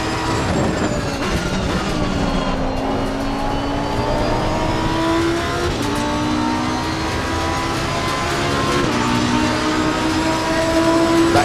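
A race car engine in a racing video game roars continuously at high revs on a lap of Brands Hatch, pitch climbing and dropping through gear changes, loud and close with no speech.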